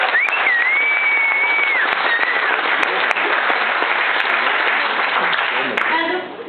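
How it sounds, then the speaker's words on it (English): Wedding guests at a maid-of-honor toast break into a full round of applause, with a high whoop or whistle near the start and the clapping holding steady before tapering off. "so round of applause for them."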